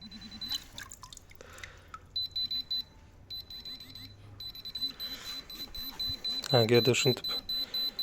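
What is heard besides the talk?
pinpointer metal detector beeping and vibrating near metal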